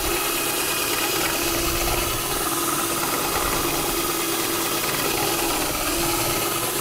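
A power drill runs continuously outdoors, producing a loud, steady mechanical whir with no pauses and no voices.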